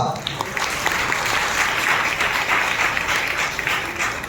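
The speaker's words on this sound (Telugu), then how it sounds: "బిగ్గరగా చప్పట్లు కొట్టండి, బిగ్గరగా" A church congregation claps loudly and steadily during an Easter service, dense continuous applause that fills the room, with a voice faintly under it.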